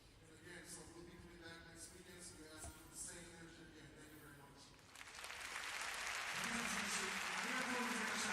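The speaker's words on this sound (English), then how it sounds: "So the crowd applauds, and the final bow is taken by this" Crowd at a Ryukyu Golden Kings vs Akita Northern Happinets basketball playoff quarterfinal, a broadband wash of applause that swells louder partway through and stays steady to the end.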